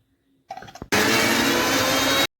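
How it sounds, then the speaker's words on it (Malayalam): Mixer grinder blending tomato coconut chutney: a short low rattle as it is loaded, then the motor switches on into a loud, dense, steady whirring grind for over a second before cutting off abruptly. "ഇനി അതിലേക്ക് നമ്മൾ തയ്യാറാക്കി മാറ്റി വെച്ചിരിക്കുന്ന ചമ്മന്തിയുടെ കൂട്ടിട്ട് കുറേശ്ശെ ഇട്ട് കൊടുത്തൊന്ന് അരച്ചെടുത്തൊക്കെ വരാം"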